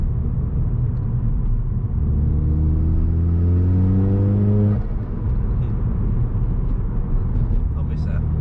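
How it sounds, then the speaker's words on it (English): A Ford Fiesta ST RT330 drives with a steady low road rumble, then the engine audibly climbs in pitch through several seconds of acceleration before easing off and cruising on. "I'm going to go for a little drive on the car, one last little drive out"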